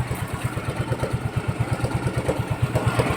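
A Mio Soulty 125 motorcycle engine idles close by with a steady, rapid chugging pulse that stays even and loud with no voices.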